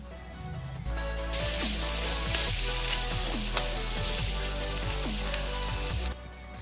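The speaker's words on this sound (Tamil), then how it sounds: "பன்னீர் அதில் போட்டு லேசாக ஃப்ரை பண்ணிக்கலாம்." Steady sizzling of paneer frying in oil in a pan for Indian paneer butter masala, continuous and close, with light scrapes from stirring and turning, no voices.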